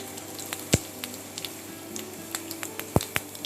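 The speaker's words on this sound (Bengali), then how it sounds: "চার টেবিল স্পুন সর্ষের তেল দিয়েছি গরম হয়ে গেছে আমি তাতে জিরেটা দিয়ে দিলাম" Cumin seeds hitting hot mustard oil in a wok make a soft, continuous sizzle, punctuated by a couple of sharp utensil taps and scattered small pops.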